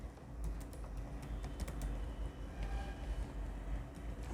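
Typing on a computer keyboard to enter login details: quick irregular clicks and taps, close and fairly quiet, over a low background hum with no talking.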